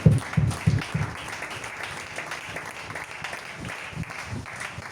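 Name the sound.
congregation applauding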